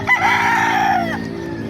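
Rooster crowing loudly and close at a gamefowl market in Bocaue, Bulacan, one long drawn-out crow lasting about a second over a low hum of background noise.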